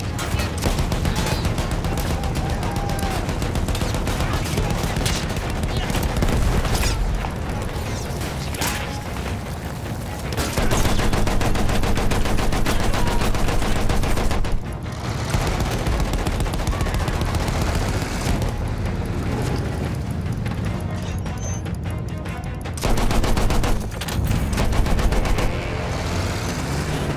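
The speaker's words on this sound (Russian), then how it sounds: "Впереди артиллерия! Сейчас мы их всех срубим! Там полевое орудие!" Relentless gunfire and artillery from the Battlefield 1 video game, a dense, loud wall of fusillade and heavy booms that runs continuously with brief dips, with no talking.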